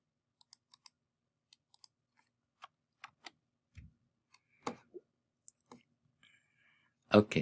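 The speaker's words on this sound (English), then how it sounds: "from here just click download" Sharp, sparse computer mouse clicks, single and in quick pairs, close and crisp in a quiet room, with a brief voice near the end.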